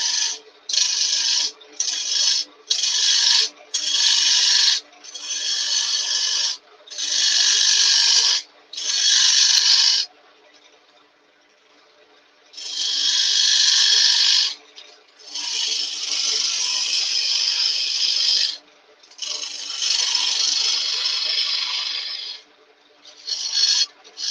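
A lathe gouge cuts rough olive wood on a spinning piece being turned into a jug vase, making loud, close, raspy scraping bursts that start and stop repeatedly, short and choppy at first and then longer.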